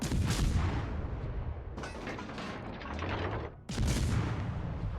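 Warship guns fire in the World of Warships naval battle game, with heavy booming salvos that burst loudly, fade into a rumbling tail and then erupt again close and full, alone without talk.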